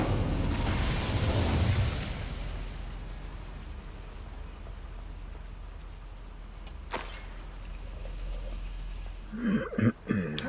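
Fire spell cast in the Hogwarts Legacy video game, a loud whooshing burst at the start that roars for about two seconds, then trails into a low rumble, with a sharp crack midway and a few thumps near the end.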